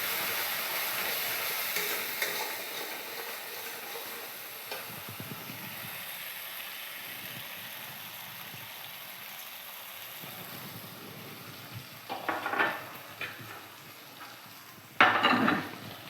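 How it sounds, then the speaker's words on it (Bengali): Spices and yogurt are stirred and fried in a pan, a soft continuous sizzle with scraping of a spoon, and a few sharper clinks of utensil against the pan toward the end. "দইটা দিয়ে একটু ভালো করে নাড়িয়ে মশলাকে কষিয়ে নেব।"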